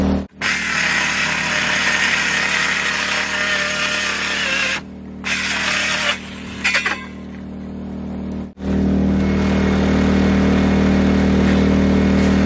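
A loud power saw cuts OSB sheeting for a closet remodel in an off-grid log cabin, a steady high whine through long cuts broken by brief stops and restarts, with a motor hum underneath.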